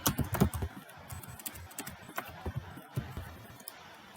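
Keyboard typing during a computer drafting session, a run of quick irregular keystroke clicks at close range, fairly quiet and scattered across the few seconds with small pauses.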